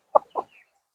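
A chicken gives two short, close clucks in quick succession, with a faint trailing note afterward and no other sound around it.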